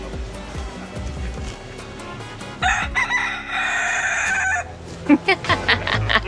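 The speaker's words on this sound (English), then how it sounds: "there are a lot of roosters and chickens, free range, like just wandering the streets." Several free-range roosters crow outdoors in the Florida Keys, one long crow in the middle and more calls near the end, over a busy background of street noise and traffic.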